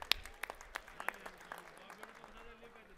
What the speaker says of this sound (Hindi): आज हम सब लोग अपनी जीत पर अपने लिए ताली बजाएंगे